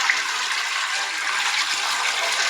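A toilet flushing inside the video game Roblox, a loud continuous gushing hiss of water lasting throughout with no talking.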